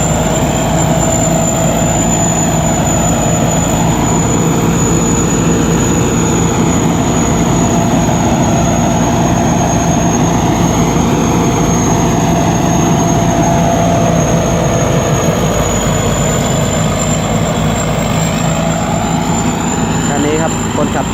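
A Sak Patthana Kaset combine harvester cutting rice on its first day of the season runs with a loud, steady engine drone and a constant high whine throughout, close and unbroken, with some voices faintly under the noise.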